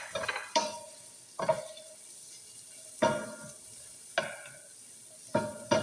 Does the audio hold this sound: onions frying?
yes